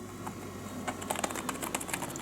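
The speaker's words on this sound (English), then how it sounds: "Typing on it is very quiet." Light, rapid typing on a Privileg foldable full-sized AirTouch flexible keyboard, a quiet, irregular patter of soft key taps heard alone at close range.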